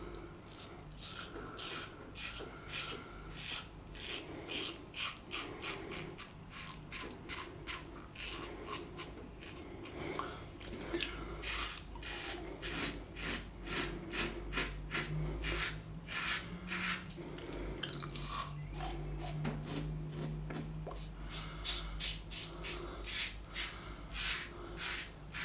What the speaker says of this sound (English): put a blade in it and start shaving